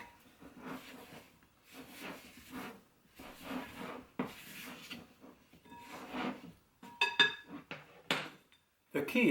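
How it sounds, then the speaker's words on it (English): Bread dough for no-knead bread is dusted with flour and rolled to coat, giving soft dry rubbing and scuffing sounds in short repeated bursts, with a few sharper scrapes near the end. "What I'm going to do is I'm going to dust the outside of the dough"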